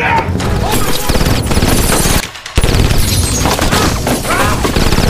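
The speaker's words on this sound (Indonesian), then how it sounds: "Mendengar banyak bunyi tembakan" Loud bursts of gunfire from outside crack and rattle in rapid fusillades, broken by a brief pause, with voices mixed into the din, in the film Die Hard.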